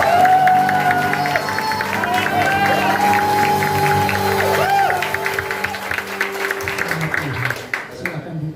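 A congregation claps hands together during a Pentecostal revival service at church, crowd applause steady and loud throughout, blended with music tones and voices, fading near the end.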